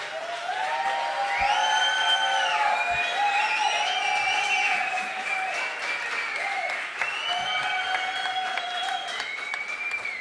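A crowd at a circus festival at Sala Nasa applauds a band, sustained loud clapping with scattered cheers and whoops, while a band's melodic tones ring over it throughout.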